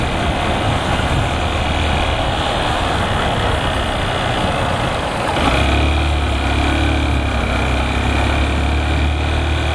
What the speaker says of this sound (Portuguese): Peraí, busão.